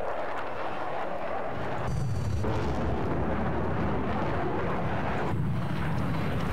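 A JDAM bomb dropped from a jet in the video game Battlefield 4 gives a heavy, rumbling detonation over a steady roar of jet engine noise, loud and sustained, with no one talking.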